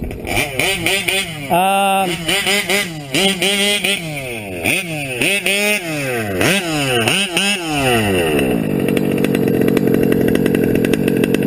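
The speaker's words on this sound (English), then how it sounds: "that's about as perfect an idle as you're going to get" Modded TLR 5B RC car engine with a high-pitched buzzing whine that revs up and down in quick repeated blips, then settles into a steady, loud, close idle.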